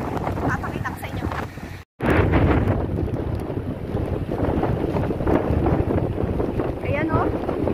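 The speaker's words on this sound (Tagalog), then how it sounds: "Sobrang lalaki ng alon." Strong typhoon wind roars across a seawall while huge sea waves crash and churn nearby, making a loud, continuous rumbling rush with heavy buffeting on the microphone after a brief cut.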